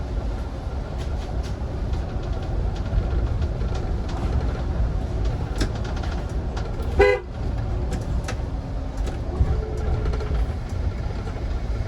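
A short, sharp bus horn toot sounds once over the steady rumble of the interior of a moving Autosan Sancity 12LF city bus.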